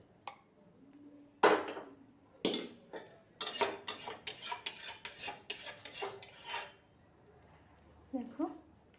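Cooking pot and metal utensils handled in a home kitchen while a dish is finished and taken off the heat: a series of sharp clanks and scrapes that come close together in the middle, with soft speech underneath.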